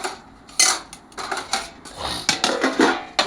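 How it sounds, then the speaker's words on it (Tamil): A spoon scrapes and clanks against a pot while lemon chicken is mixed into rice, giving a series of sharp metallic knocks and rustling stirs at an uneven rhythm, close and clear. "இப்போ லெமன் பக்காடி சிக்கனை சாப்பாட்டில் மிக்ஸ் பண்ணணும்."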